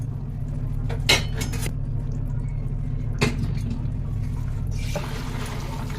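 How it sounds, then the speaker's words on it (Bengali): Fish pieces dropped into a simmering potato curry with cauliflower and peas, heard as a few clinks and splashes over a steady low hum of bubbling, ending with a brief liquid rush, close with no talk. "আলু সেদ্ধ হয়ে গেছে এবার মাছ দিয়ে দেবো"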